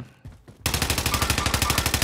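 Rapid automatic gunfire in the video game Call of Duty: Modern Warfare, a few scattered shots and then a sudden, loud, sustained burst of fast, evenly spaced rounds with no talk.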